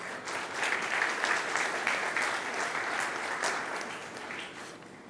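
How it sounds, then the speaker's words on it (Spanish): An audience at an evening panel session applauds the invited panelists with dense, sustained clapping that stays loud for several seconds, then tapers off toward the end. "Le quiero pedir, por favor, un aplauso a los panelistas invitados"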